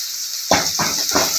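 Spices and curry leaves tempering in hot oil give a steady close hiss, broken by three sharp bursts of crackling sizzle.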